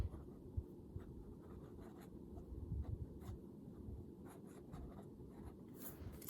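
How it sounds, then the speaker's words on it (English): A pen writes on paper in a planner, a faint, close, continuous scratchy rustle with small strokes and taps, alone with no speech. "I'm gonna write down, I'll write at the bottom."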